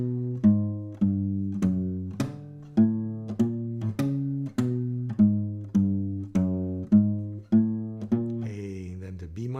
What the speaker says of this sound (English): So there's the whole bass line. It sounds like this.